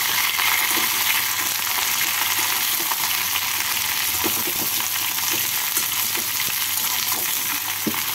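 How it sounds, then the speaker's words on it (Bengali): Sliced ridge gourd pieces frying in oil in a pan, a steady, loud, even sizzle with occasional soft scrapes of stirring, no voices. "ঝিঙেগুলোকে দিয়ে ঝিঙেগুলোকে হালকা করে ভেজে নেব।"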